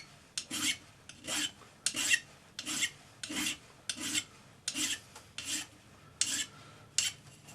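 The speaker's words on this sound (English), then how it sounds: "You can also use your flat hand file for that." A hand file rasps against a metal bezel join in about a dozen steady, evenly spaced strokes, close and crisp, with no talking.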